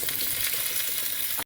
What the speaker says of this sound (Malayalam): നമുക്ക് അതും കൂടി ഇട്ട് വറുത്തെടുക്കാം